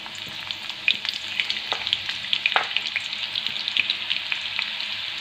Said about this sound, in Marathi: त्यामध्ये ठेचून घेतलेला लसूण मी टाकून घेणार आहे